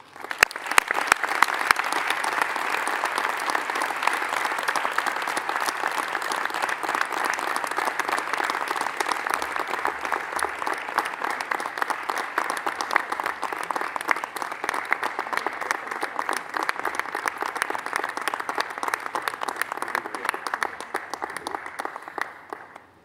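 Sustained audience applause at the opening of the AUSAPE 2019 forum, a dense, steady wash of many hands clapping that holds for over twenty seconds before tapering off at the end.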